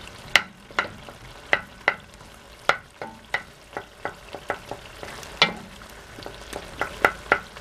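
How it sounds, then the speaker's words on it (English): Mashed avocado cooked in a pan for homemade hair oil is stirred with repeated sharp spoon knocks and scrapes against the pan over a faint sizzle, close and steady. "you're going to try to stir it from time to time so that the avocado does not stick to the bottom of your pan and burn"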